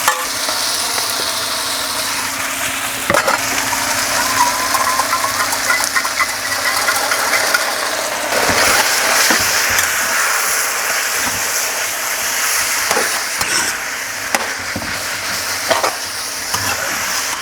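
Shrimp and bok choy leaves stir fry with sauce in a hot pan, giving a steady, close sizzle broken by the scrapes and clacks of a utensil stirring.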